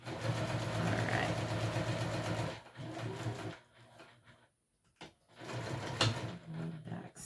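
A sewing machine stitches a fabric wristlet, running steadily and close for a few seconds, then stopping and restarting in short bursts with quiet gaps.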